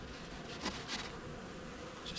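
Honey bees swarm around an open hive box in a dense, steady buzz close by, with a few louder passes as individual bees fly near.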